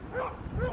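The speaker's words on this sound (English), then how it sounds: "Are they barking at me?" Dogs barking and whimpering nearby while passing outdoors around a Minnesota lake, a couple of short yippy bursts over steady background noise.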